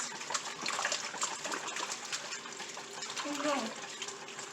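Running water splashes and trickles steadily under intermittent talking, with a brief rattle of a whisk being rinsed in the stream after butter making.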